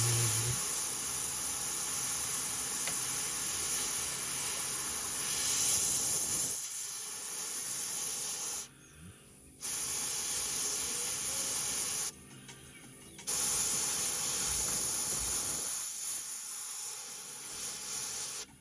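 An airbrush sprays paint while weathering a 1/48 scale MH-53E model helicopter: a steady, close hiss that stops twice and then starts again.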